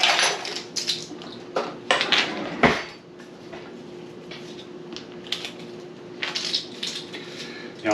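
Metal utensils clink and clatter as a tablespoon is pulled from among them in a home kitchen, a few close, bright rattles spaced over several seconds.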